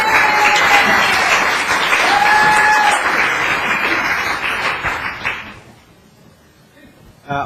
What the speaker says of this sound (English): Hold the applause down